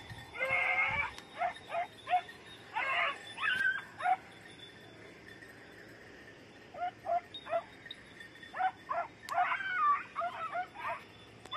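Several beagles (red-blue tick and lemon-white) whimper and yelp in bursts during hare-hunting practice outdoors on Crete, with a quiet stretch in the middle before the whining resumes, moderately distant.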